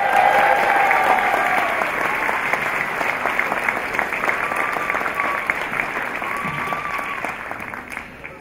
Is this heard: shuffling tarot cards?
no